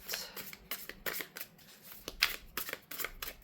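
Tarot cards being shuffled close up in quick riffling bursts separated by brief pauses, quiet and without talk.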